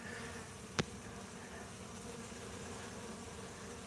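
Faint, steady buzzing of honey bees flying around a beehive, with one brief sharp tap partway through.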